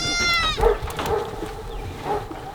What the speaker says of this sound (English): Oh, there are a couple pretty goats you got there.